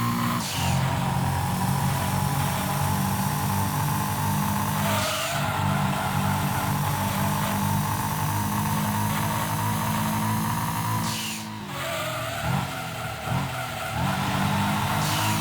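Race cars in the Gran Turismo 2 video game, including a Viper, roar loudly and continuously with engines revving, tires squealing and skidding around corners, shifting pitch as they accelerate past.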